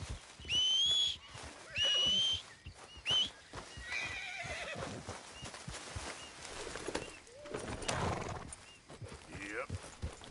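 A horse in the video game Red Dead Redemption 2 whinnies in a few shrill bursts, followed by hoof clip-clops and tack rattles under a man's speech with low ambient sounds.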